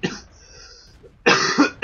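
Two short, harsh coughs from a man gaming on World of Tanks, one at the start and a louder burst near the end, close to the microphone with a brief quiet gap between.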